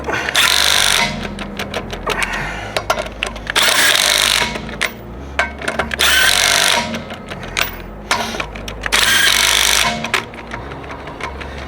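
Repeated bursts from an impact power tool driving a black socket onto car wheel lug nuts, each loud buzzing run lasting about a second with short pauses between, close and with no talking.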